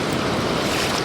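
Steady, loud roar of sea surf breaking on a North East Scotland beach during shore fishing, a dense continuous wash with wind buffeting the microphone.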